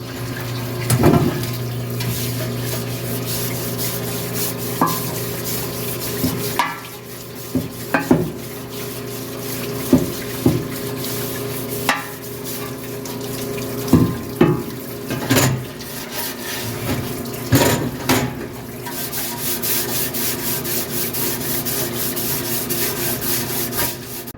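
Water rinsing and scrubbing inside a removed oil pan from a 1985 Mercedes 300D, with steady running water, rubbing and scraping, and several sharp knocks and clanks of metal during the wash.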